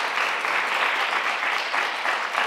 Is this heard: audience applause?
yes